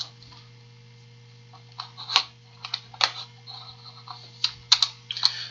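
Keys on a computer keyboard are struck in irregular bursts of soft clicks over a steady low electrical hum, with short pauses between clusters of keystrokes.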